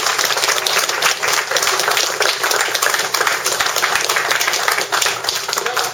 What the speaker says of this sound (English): I'd like everybody in this room to give our veterans a round of applause